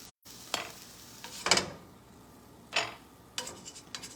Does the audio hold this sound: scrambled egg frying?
yes